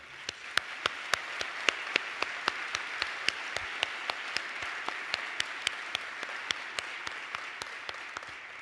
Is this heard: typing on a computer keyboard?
no